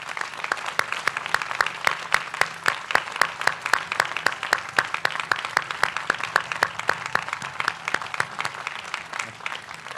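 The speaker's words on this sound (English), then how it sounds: "join me in a round of applause for all your families and friends here tonight" A large audience at a university commencement ceremony claps for the graduates' families and friends, a dense, steady crackle of many hands that stays even and full for the whole stretch with no voices above it.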